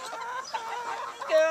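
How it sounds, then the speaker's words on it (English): Laying hens of mixed varieties clucking close by in a flock of about 21 chickens, a steady run of overlapping clucks and murmurs rising into a louder call at the end. "We have 21 different chickens, different varieties. They are all laying hens."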